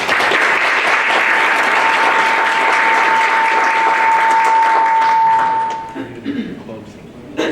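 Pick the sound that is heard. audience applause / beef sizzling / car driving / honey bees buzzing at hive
audience applause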